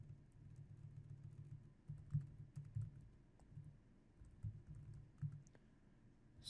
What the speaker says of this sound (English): So in the footer, I would like to just type in the text